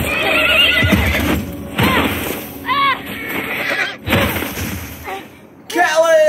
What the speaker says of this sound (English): Shoot the horse!